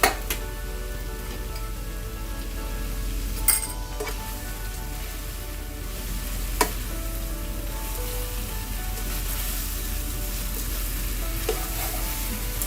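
Cauliflower florets for gobi manchurian stir-fried with green onions in a hot pan, giving a steady loud sizzle throughout with scraping stirs and a few sharp utensil clinks against the pan.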